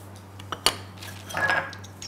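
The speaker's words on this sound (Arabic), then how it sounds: "واحط الزيت وحضيف البيضة" Oil and an egg are added to softened butter in a bowl, marked by a few sharp clinks and taps of utensils against the bowl, then a brief soft swish, all close and quiet over a low steady hum.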